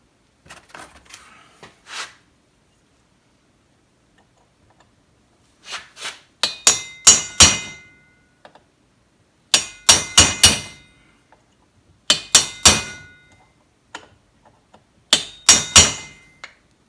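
A hammer stakes a loose part into place on a stuck-open 1957 Chevy carburetor, striking in quick clusters of two to four sharp, close metallic taps separated by pauses of near silence.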